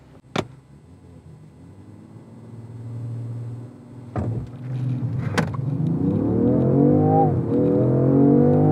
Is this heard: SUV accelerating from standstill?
yes